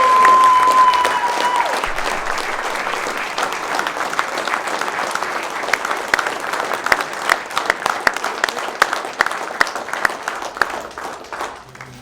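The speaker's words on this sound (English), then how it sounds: "One more big round of applause for Coach Eli." A crowd at a college football alumni event gives a coach a sustained round of applause, dense clapping that starts loud and gradually thins toward the end.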